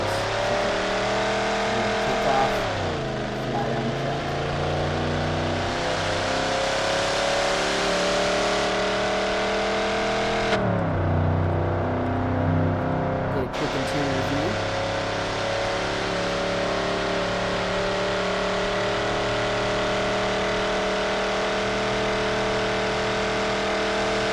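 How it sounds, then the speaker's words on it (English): A Plymouth Cuda in BeamNG.drive roars steadily at full volume, its engine pitch climbing, dropping at each gear shift, then rising again; one deeper lull near the middle, with no talking. "We're going to run them down the track so you can hear it shift, you can hear it accelerate"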